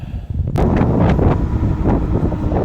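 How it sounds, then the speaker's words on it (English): Heavy wind buffets the microphone in loud, rumbling gusts on a cold day of about 45 degrees, with a sudden blast partway through and continuous roaring noise after. "it's really windy today"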